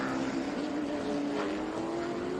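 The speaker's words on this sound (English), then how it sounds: "Beautiful sound. Tommy Dreesy's car." Onboard a race car at a COTA SpeedTour event, the engine screams in a sustained high-pitched drone that rises slightly in pitch, loud and continuous throughout.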